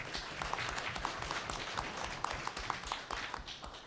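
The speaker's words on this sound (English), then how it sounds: "round of applause" At a college gathering, a modest group claps for a former student admitted to Harvard Law, with distinct individual claps standing out over a softer spread of applause.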